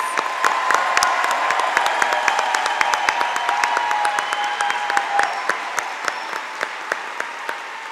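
A school recognition-night audience gives students a round of applause, dense sustained clapping from a crowd indoors with a few sharper nearby claps standing out, loud and continuous for the whole stretch.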